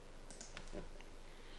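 Soft, brief mouse clicks in Structures Office structural engineering software, a few faint taps close by over a low steady hum.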